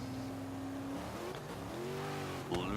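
A Lamborghini Super Sport launches into a drift during a qualifying run, its engine a steady droning tone that climbs in pitch, with a brief sharp tire squeal near the end.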